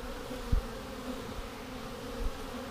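Honey bees at a package hive entrance, carrying in pollen, make a steady low insect buzz throughout, with a few brief louder passes of single bees flying close by.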